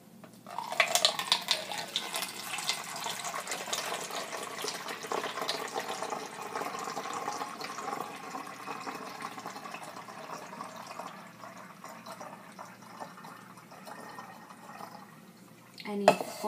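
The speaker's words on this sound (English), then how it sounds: "I'm gonna dump it in my future spray bottle." Liquid pours steadily through a funnel into a spray bottle for most of the span, a continuous splashing trickle that thins toward the end before a brief clatter.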